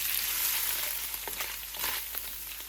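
Chicken pieces fry in a little oil with finely chopped garlic, making a steady, bright sizzle with small crackles and pops close by and no talking.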